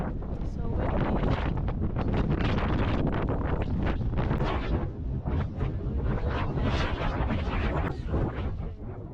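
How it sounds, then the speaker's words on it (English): Strong gusting wind buffets the microphone at an Alaska cruise port stop near a docked ship, a loud, continuous roar with rumbling bursts, while people talk faintly underneath. "So windy."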